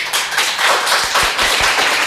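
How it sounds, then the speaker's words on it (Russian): Several people clap their hands in steady applause, dense and close, like children clapping, with a few low thumps toward the end. "И вот так дети ходили и аплодировали."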